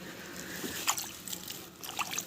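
Water runs from a hose into a container at a rabbit enclosure during night feeding chores, a faint, steady trickling wash with a few small splashes.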